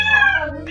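A cat gives a single drawn-out, close meow that slides gently downward in pitch, heard alone and loud with no talking over it.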